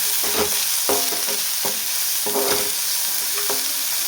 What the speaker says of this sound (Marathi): आता आपण त्यामध्ये टाकूया शेंगदाणे आणि कोथिंबीर हे पण परतून घेऊया